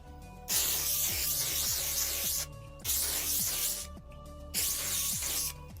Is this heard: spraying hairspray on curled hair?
yes